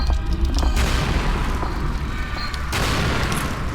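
Grenade explosions in a flying saucer video game, a rapid series of heavy booms and crackling blasts rolling one after another, loud and close, with no clear talking.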